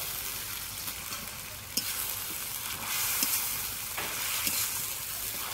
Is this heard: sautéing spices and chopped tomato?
yes